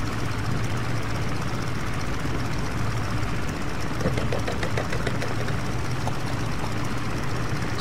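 Biplane engine idling before takeoff in the World War I flight game Rise of Flight, a steady, moderately loud mechanical thrum with a faint knocking pulse throughout and no talk.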